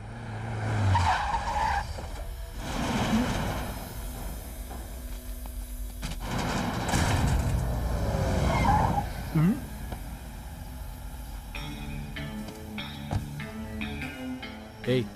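A car drives hard with tires skidding and squealing in a Hindi-dubbed Bollywood action scene, engine roar and screeching rising and falling over several seconds, with voices and clatter in the mix.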